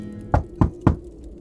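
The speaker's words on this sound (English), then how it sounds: "there was a sudden knock on the door" Three quick, solid knocks on a cabin door, evenly spaced and close, ringing out alone against a quiet room.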